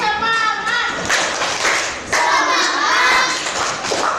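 A sixth-grade class performs the tepuk semangat clapping routine, many hands clapping in a rhythmic pattern with thumps, while children's voices chant along over the clapping.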